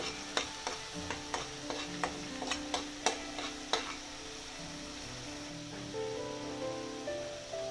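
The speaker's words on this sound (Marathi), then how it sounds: "याला चांगलं साईडनी तूप सुटेपर्यंत याला भाजून घ्यायचं आहे" Rajma roasting in ghee in a pan, with a faint steady sizzle and a run of sharp spoon scrapes and taps against the pan that fade midway, leaving a softer frying hiss.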